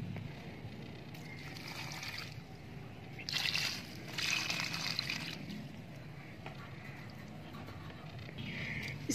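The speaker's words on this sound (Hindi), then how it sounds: "तो अब इसके अंदर पानी डाल देंगे एक दफ़ा भर के" Water is poured into a pot of rooted plant cuttings, a soft, quiet trickle and slosh with a couple of slightly stronger gushes along the way.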